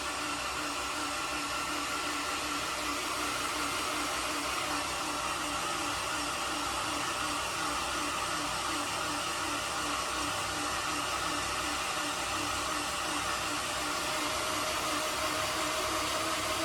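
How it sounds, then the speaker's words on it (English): A built Honda F24 engine cranks over with its spark plugs removed, making a steady, unbroken whirring drone with a faint rhythmic pulse that holds for a long stretch with no voices. "Now as you can see, the RPM will slowly climb. We have no spark plugs in it."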